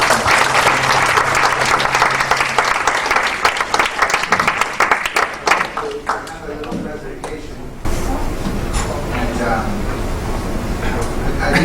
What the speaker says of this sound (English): how about another round of applause for you?